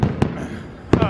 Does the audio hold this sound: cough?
no